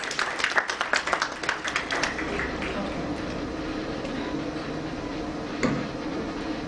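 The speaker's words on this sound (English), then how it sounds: "Please welcome him with a round of applause" Audience applause welcoming the chief guest at an SME conclave, a dense burst of clapping in a hall that is strongest at the start and then thins into a steady, softer patter.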